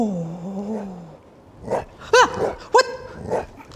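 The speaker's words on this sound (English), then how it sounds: "No, puppy. Don't you do it, don't. Bad puppy, bad puppy, bad puppy!" A dog in the VR game Witching Tower growls low, then lets out several sharp, separate barks in an uneven rhythm, close and fairly loud, with no talk over them.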